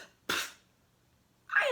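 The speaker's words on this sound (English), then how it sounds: "he said with a sawdusty sneeze" A single sharp sneeze bursts out, then a brief silence before a breathy vocal onset, close and clear, a voice performing a sneeze for the Lorax.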